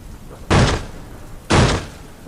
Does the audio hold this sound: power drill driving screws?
no